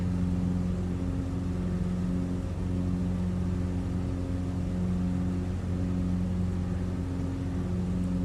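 Steady droning of an XCub aircraft engine in Microsoft Flight Simulator, a constant hum with strong low tones that holds even and unchanging throughout, with no noticeable drop in pitch.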